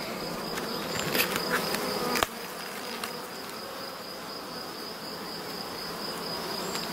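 Black honey bees buzz in a dense, continuous drone during a hive inspection and queen marking, loud and close, with a sharp knock early on and the swarm hum carrying on steadily afterward.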